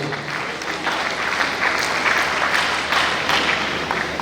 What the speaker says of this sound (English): Can we please clap for him?